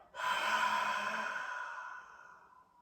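A slow, even exhale during guided yoga breathing: one long, soft rush of breath that starts strong and fades away over a few seconds, alone with no talking.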